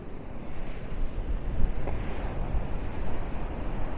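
Strong wind sweeps across the beach at Maspalomas, Gran Canaria, in a steady, roaring rush mixed with surf noise, loud and continuous with no voices.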